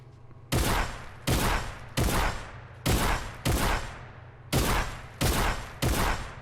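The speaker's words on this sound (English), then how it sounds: "You're just going to be shooting orbs." Rapid video-game gunfire from a Fortnite aim training map while shooting at orbs, eight sharp, loud shots spaced roughly evenly, each followed by a short decaying tail over a low steady hum.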